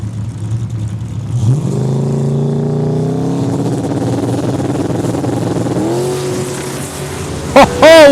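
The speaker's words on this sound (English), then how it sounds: "Oh, what a launch with the Monte Carlo" Drag race launch of a Monte Carlo and a Mustang at a Saskatchewan raceway, loud engines revving and screaming up in pitch as the cars pull away, then a sharp tire chirp near the end.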